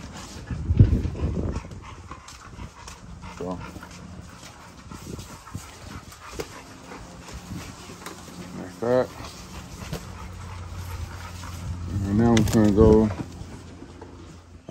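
Puppies in a kennel whimper and yip in short high-pitched bursts, clustered near the middle and end, with an adult speaking at times and general indoor background noise.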